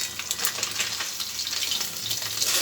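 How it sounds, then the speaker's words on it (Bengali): Pabda fish frying in hot oil, a steady dense sizzle with crackling spatter throughout, close and fairly loud, with no voices. "আমার মাছ ভাজাটা হয়ে গিয়েছে"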